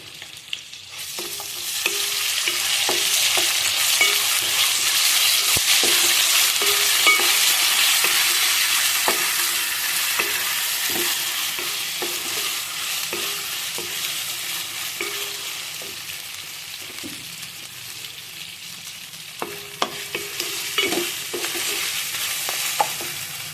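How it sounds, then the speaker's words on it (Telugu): Onion pieces frying with a spoonful of ginger-garlic paste for a spicy chicken biryani, a steady bright sizzle with frequent stirring clicks and scrapes of a spoon against the pan, no talking. "ఇందులోనే 1 టీ స్పూన్ అల్లం వెల్లుల్లి పేస్ట్ వేసి వేయించుకున్నాం."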